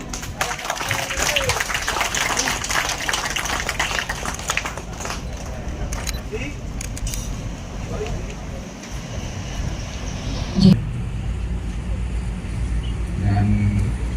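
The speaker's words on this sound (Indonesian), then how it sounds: "Aplaus yang meriah." Applause at an Indonesian village halal bil halal and thanksgiving ceremony, a crowd clapping steadily under outdoor background noise, fading as a voice speaks over it.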